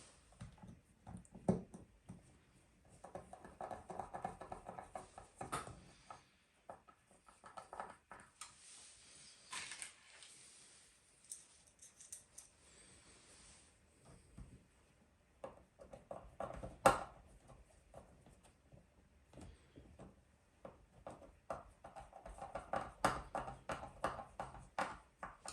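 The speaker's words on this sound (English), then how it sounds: "put in a couple of pick guard screws just to hold that in place for now" Pick guard screws are driven into a Tele-style kit guitar on a workbench, faint repeated ratcheting creaks of a screwdriver turning in bursts separated by quiet pauses.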